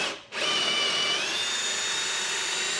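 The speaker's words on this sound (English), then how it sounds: "I'm just using a 1/2 inch bit, and I'm going through my top board" A power drill with a 1/2 inch bit bores a dowel hole through a wooden tabletop board, starting up after a brief pause into a loud, steady, high whine that holds close and continuous.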